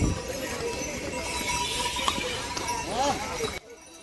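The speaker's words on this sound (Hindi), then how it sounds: "इस साइड भी घोड़े, इस साइड भी घोड़े" Horses plod along the Kedarnath pilgrimage trail, hooves clip-clopping steadily at close range amid chatter and the murmur of a crowd, before the sound cuts off abruptly.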